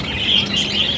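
Pet parakeets chirping steadily in a dense, continuous chatter, fairly close and unbroken for the whole moment.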